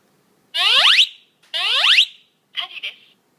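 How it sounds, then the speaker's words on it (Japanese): A Panasonic fire alarm in warning mode gives two loud, close, rising electronic sweep tones, then a short synthetic voice announcement from the device itself. "このような警報音が鳴ります。"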